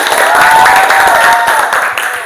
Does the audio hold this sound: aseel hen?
no